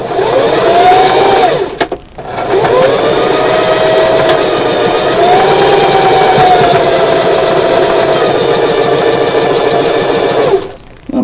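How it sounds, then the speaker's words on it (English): Sewing machine running a straight stitch along a handkerchief hem at stitch length 2, a loud steady motor whir with a brief stop near the two-second mark before it resumes and continues to the end. "I'm using a 1/4 inch seam allowance. The stitch length is 2, and I'm using a straight stitch."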